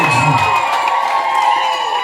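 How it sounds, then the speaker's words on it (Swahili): A church congregation claps and cheers loudly for Jesus, with ululating trills and shouts blending into a continuous crowd roar. "Piga tena Yesu makofi"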